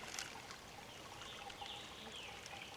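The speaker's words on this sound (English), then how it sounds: "start filling this up. This is now clean water, good enough to drink." Clean drinking water pours steadily into a water bladder, a continuous soft trickling stream at low volume with no talking.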